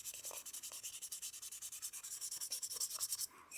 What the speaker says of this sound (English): So I've got my 320 grit sandpaper. I'll just hit this up by hand